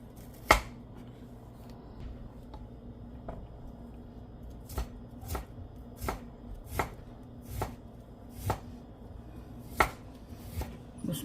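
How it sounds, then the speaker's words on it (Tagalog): Knife chopping ginger on a cutting board, about a dozen crisp, sharp chops that are mostly spaced and uneven, with a few quicker pairs, sitting over a steady low background hum. "At maghiwa tayo ng luya."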